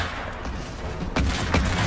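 Gunfire in a competitive video game match, a dense run of sharp shots crackling through the clip, with two louder bursts near the end.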